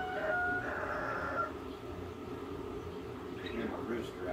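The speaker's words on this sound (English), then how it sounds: "Get my rooster outside." A rooster crows amid a noisy, rumbling background, with people talking nearby.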